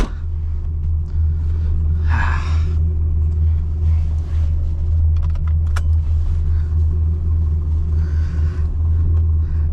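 Stock-engine 1992 Acura NSX running while driving, a loud, constant low drone and rumble heard from inside the car, with brief faint noises from the cabin over it.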